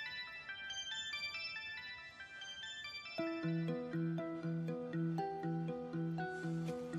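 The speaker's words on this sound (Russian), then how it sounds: "Телефон." A mobile phone ringtone plays a bright, repeating melodic tune indoors, quiet at first and then louder and fuller, with no talking over it.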